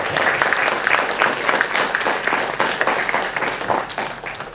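A film festival audience claps steadily in sustained applause, a dense rattle of many hands close by, continuing throughout without talking.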